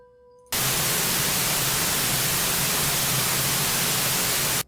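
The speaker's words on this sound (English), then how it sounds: "There was nothing but just static." Television static: after a brief quiet moment, a loud, steady white-noise hiss bursts in and holds without a break.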